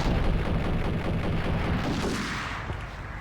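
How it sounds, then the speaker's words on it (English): Shotgun fire in the Max Payne video game, a dense, loud barrage of overlapping blasts and booms filling the whole clip with little pause, tapering slightly toward the end. "The fucking shotguns again,"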